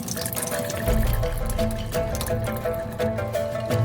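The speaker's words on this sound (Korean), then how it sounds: "검은 콩에 남아있는 물기를 빼줘요." Water runs and splashes as black beans are drained in a kitchen, a steady close pouring stream with faint patter, and no one speaks.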